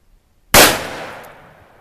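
A single loud Taurus Tracker .44 Magnum revolver shot fired at targets, a sharp close blast with a long ringing decay and no talking.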